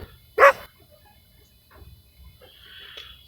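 A dog barks once in a Bengali horror escape video game, a single loud burst near the start, followed by faint scattered rustling and a thin high tone toward the end.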